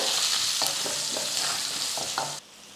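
Fennel seeds, curry leaves and crushed garlic fry in a pan with a steady, close hissing sizzle and a few soft stirring scrapes, which drops suddenly near the end.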